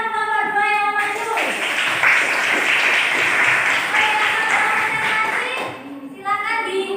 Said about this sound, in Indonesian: tepuk tangan untuk kelompok 2 yang maju